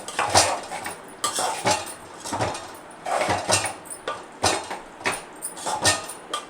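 A ladle stirs curry in a metal pan. Close scraping strokes and clanks come in irregular bursts, with short quiet gaps between them.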